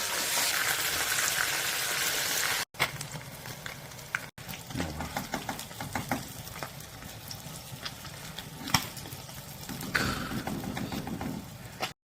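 Sweetfish (eun-eo) frying in hot oil by a creek, a steady broadband sizzle with crackles and pops running throughout, interrupted by two brief dropouts.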